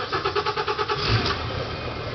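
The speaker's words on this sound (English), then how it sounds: "One of the benefits of the Honda outboard motor is how quiet it is" A Honda outboard motor with 73 hours of use, mounted on a Pemaquid 22 lobster boat, cranks over in a quick rhythmic burst, catches, then settles into a low, steady, quiet idle.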